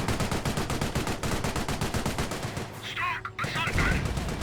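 Gunfire in Company of Heroes, a rapid machine-gun rattle of steady, evenly spaced bursts, briefly interrupted by other battlefield sounds before the firing resumes loudly.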